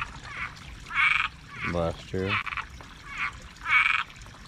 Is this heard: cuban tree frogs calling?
yes